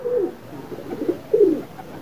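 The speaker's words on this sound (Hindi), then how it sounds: "ये कबूतर लगे हुए।" Pigeons coo nearby in a few soft, low, throaty phrases with short pauses between them.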